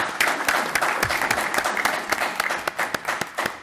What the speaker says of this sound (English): just get excited with thunderous applause